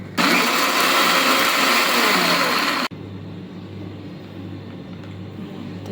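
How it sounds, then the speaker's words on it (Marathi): A kitchen mixer grinder whirs loudly and steadily, blending coriander stalk chutney with water for about three seconds before cutting off abruptly, leaving a quieter low hum. "तर चला आपण हे आता मिक्सरमध्ये ग्राइंड करून घेऊया."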